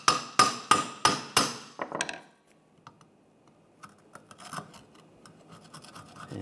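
Several sharp metallic taps from a hammer in a quick row, then quieter scratching and light scraping as it scrapes old gasket off an engine surface on a Cadillac SRX, close up with no talking.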